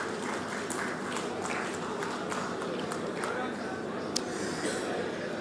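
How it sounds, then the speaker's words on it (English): Crowd applause for a minister at an outdoor foundation-stone ceremony in Visakhapatnam for a badminton academy; steady, dense clapping mixed with crowd murmur and a few sharper claps, moderately loud throughout. "Applause for the Minister, please."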